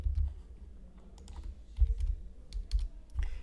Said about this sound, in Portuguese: quando eu digitar 13,